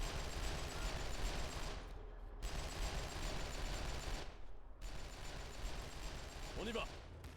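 Sustained battlefield gunfire from The Great War: Western Front, a dense continuous rattle of rifles and machine guns with two brief drops, spread across the whole stretch under distant noise and a faint voice near the end.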